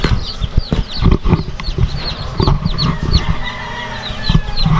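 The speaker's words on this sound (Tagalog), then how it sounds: "Lalabas natin yung ating mga sisiw." A brood of young chicks cheeps in dense, overlapping high peeps as they are let out, with occasional fowl clucks and wing flutters mixed in close by.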